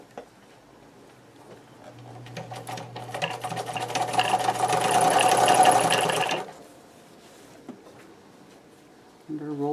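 A sewing machine runs a simple straight stitch on a shirt being made into a skirt, a steady rapid whirring that builds for several seconds and then stops abruptly, with some faint background noise.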